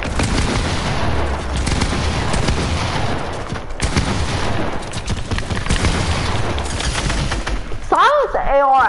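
AK rifle fire in Fortnite, rapid bursts of gunshots in a dense, loud firefight, with more distant shots mixed in and a few brief whistling effects near the end.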